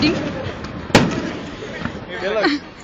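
A single muffled Fourth of July firework boom goes off once, briefly, amid a crowd's chatter and voices outdoors in West Allis, Wisconsin.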